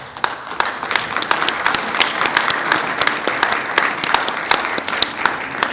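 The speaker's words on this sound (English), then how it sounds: "We want to give the candidates for the city council applaud." Applause at a political forum in a Port Arthur, Texas church for city council candidates: a smaller crowd clapping with distinct, sharp individual claps standing out over a steady bed of hands, loud and near.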